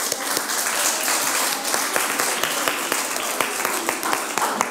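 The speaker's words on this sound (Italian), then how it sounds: "grazie e un applauso proprio per voi" An audience applauds at a podcast award ceremony, with dense, steady clapping that fills the room, loud and continuous for several seconds, with faint voices underneath.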